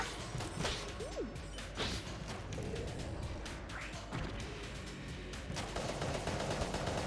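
Rapid rifle gunfire in the roguelike shooter Enter the Gungeon, a busy barrage of small shots and impacts mixed with chirpy game effects, fairly quiet throughout.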